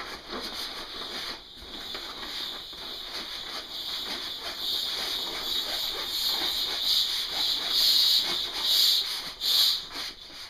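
Air hisses out through the open valve of a Thermarest sleeping pad as it is rolled in half, a continuous, close rush that swells and fades briefly, growing louder toward the end.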